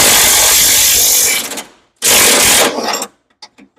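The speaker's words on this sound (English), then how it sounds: "Put a wrench on there." Power tool or wrench zipping out a k-member bolt on a big-block Foxbody Mustang, with two loud close whirring bursts of about a second each separated by a short pause, then faint metallic ticks.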